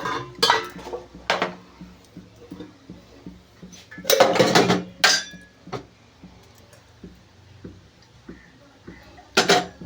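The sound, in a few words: placing a kadai pan on the gas stove and adding oil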